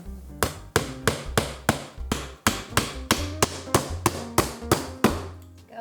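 Nails are hammered into a fence-board planter box in a steady run of about fourteen sharp, loud, close hammer strikes, each ringing briefly on the wood and evenly spaced with no talking.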